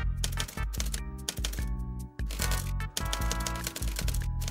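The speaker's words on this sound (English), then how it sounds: "try typing now to power the stream" Rapid, uneven clatter of many keyboard keys being struck at once, loud and close, with brief pauses between bursts of typing.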